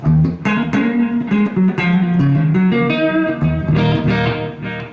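A clean electric guitar with the overdrive pedal switched off plays a flowing melodic line of single notes and chords, clear and undistorted, with no voices.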